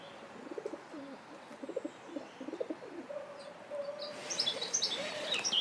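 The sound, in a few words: dove cooing on a gate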